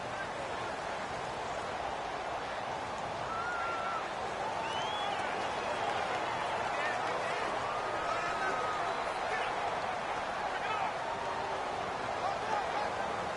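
A simulated stadium crowd in Madden 18 during a Cincinnati Bengals vs Pittsburgh Steelers game gives off a constant, dense roar with occasional whistles, running under a commentator's voice for the whole stretch.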